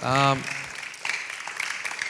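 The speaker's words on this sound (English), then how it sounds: "let's give a round of applause for that" Applause from a church audience after a pastor's Q&A session, a brief voice at the start giving way to light, scattered clapping that continues quietly to the end.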